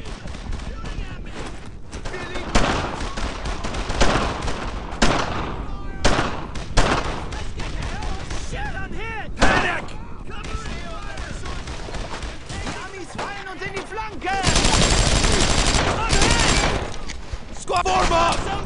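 Dense gunfire from rifles and machine guns in a Brothers in Arms: Earned in Blood battle, with bursts and single shots crackling continuously over the whole stretch and a heavier volley near the end, while soldiers shout commands over it.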